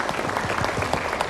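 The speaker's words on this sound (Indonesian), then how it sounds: "tepuk tangan" Studio audience applauding at an Indonesian religious TV programme, a steady patter of many hands clapping close by, continuous through the brief moment.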